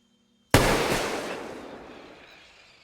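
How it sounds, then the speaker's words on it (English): A single sharp gunshot in a jungle film scene cracks loudly after a brief silence, then rings out into a long decaying echo lasting over two seconds. "Carl suddenly fires a gun."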